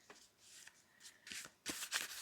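A deck of cards is shuffled in a few quick riffling bursts, close and crisp, growing louder toward the end with short pauses between.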